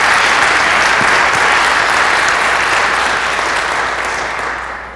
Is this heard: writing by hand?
no